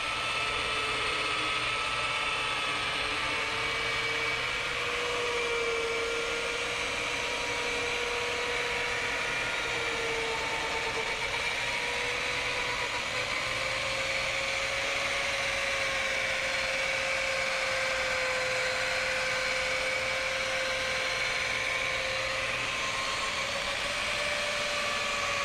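A rotary polisher works over car paint during a two-step paint correction, whirring continuously with a steady motor drone and slowly drifting pitch as pressure changes, near and constant with no speech.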